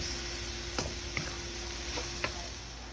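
Vegetables sauté over high heat for shrimp fried rice, a constant bright sizzle punctuated by a few quick spatula clicks against the pan, near and with no talking.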